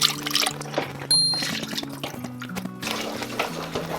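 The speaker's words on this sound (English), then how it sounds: "I'm just going to add a little water into it." Water poured into frying masala for a fish curry, a steady hissing pour and sizzle in a pan, with background music playing underneath throughout.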